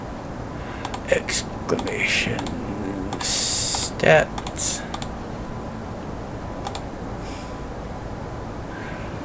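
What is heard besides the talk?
typing on a computer keyboard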